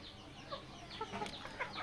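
A white layer rooster clucking softly in a poultry farm, a few short quiet clucks spread over a brief moment against low background noise.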